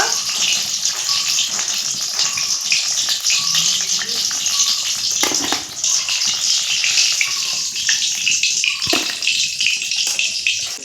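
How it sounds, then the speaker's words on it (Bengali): Tomato chops deep-fry in hot oil, giving a loud, continuous close sizzle and crackling hiss throughout, with a voice speaking faintly underneath. "বাকি যে চপগুলো আছে সেগুলো আমি ভেজে নিব"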